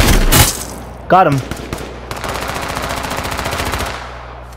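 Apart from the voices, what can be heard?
gunfire from the video game H1Z1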